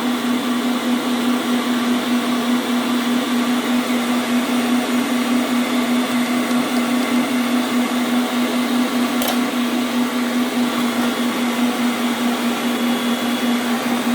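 A kitchen blender runs at speed 1 mixing cake batter as oil is added, a loud, steady motor drone with an even hum that holds unchanged throughout, close by and without talking.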